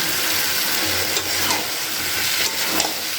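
Green jackfruit pieces hit a pan of cooked spice paste and oil, giving a broad, close hissing sizzle with bursts of crackle and stirring, continuous and fairly loud.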